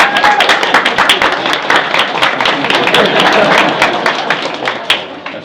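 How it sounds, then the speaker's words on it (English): Small group applause at a ceremony, dense close hand clapping with sharp individual claps continuing steadily for several seconds, loud and lively, with a few voices mixed in. "Round of applause."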